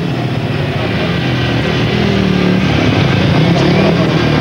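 Methanol-burning Jawa speedway motorcycle racing at a Grand Prix meeting in Coventry, a loud continuous engine roar with crowd and track ambience throughout.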